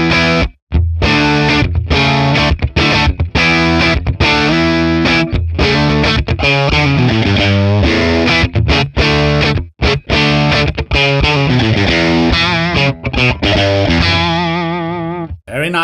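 Telecaster on its bridge pickup through a 1964 Selmer Treble n Bass 50 amp, no reverb, played as loud, continuous distorted chords with steady strumming rhythm and brief gaps.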